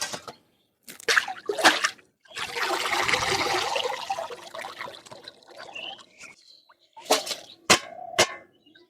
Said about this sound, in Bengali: তো এবার এগুলো পুকুরে ভালো করে ধুয়ে নেব।